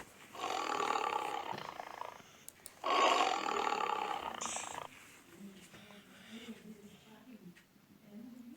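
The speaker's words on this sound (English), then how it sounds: "Tiger. Tiger." A tiger gives two loud, rough roars in close succession, then a lower, rumbling growl that trails off.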